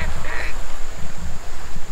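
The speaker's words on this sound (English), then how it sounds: "Good little ducks." Ducks quack close by in short, raspy bursts, several calls in quick succession.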